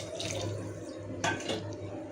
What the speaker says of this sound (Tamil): இந்த டைமில் நம்ம தேவையான அளவு தண்ணி ஊற்றிக்கலாம்